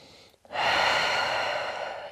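A deep breath taken in downward dog during a vinyasa yoga class: a brief quiet pause, then one long, loud, airy inhalation or exhalation close to the microphone, with no talk.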